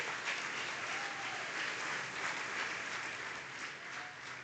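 Church congregation applauding during a Spanish-language sermon, a steady, dense wash of many hands clapping that holds evenly for several seconds with no talking over it.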